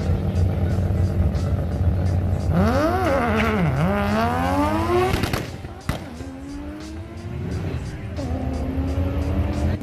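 A Mazda RX-7 and a Chevrolet Camaro race, with loud engine roars rising and falling through shifts, sweeping revs and a brief tire squeal, while a voice talks over part of it.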